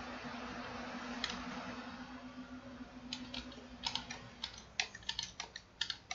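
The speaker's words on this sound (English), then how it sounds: "I'm pressing F2 and delete on the keyboard to get back in." Keys pressed on a computer keyboard while rebooting a freshly built Ryzen 7 5700X and RTX 3070 Ti PC, a single tap then a rapid run of sharp clicks in the second half over a steady fan hum.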